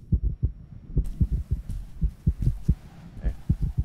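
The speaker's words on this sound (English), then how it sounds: "I hear a heartbeat." A heartbeat thumps in the horror video game From The Darkness, steady paired low beats repeating at an even rhythm, close and prominent with no talk over it.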